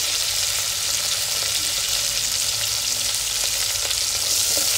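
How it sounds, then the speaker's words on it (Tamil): Small onions (shallots) sauté in a pan for a Tamil raw manathakkali kuzhambu, giving a steady, close, dense sizzle that runs unbroken throughout with no talking. "இதை நல்லா வதக்கிக்கலாம்."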